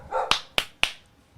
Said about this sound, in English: right now the dog's barking